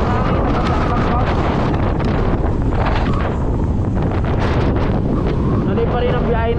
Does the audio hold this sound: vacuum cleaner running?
no